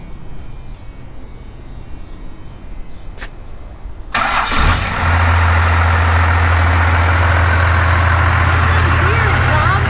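A 1978 Dodge crew cab dually truck engine cranks and fires up after a few quiet seconds, then settles into a loud, steady, clattery idle close by.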